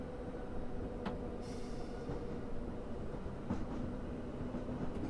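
A simulated train coasts downhill on a gradient with no throttle in a railway simulator, steady rolling wheel noise with occasional rail clicks and a faint squeal, heard alone.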